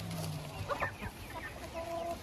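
Chicks in a chicken coop cheep and cluck in scattered short calls over a steady background murmur, fairly close and moderately quiet.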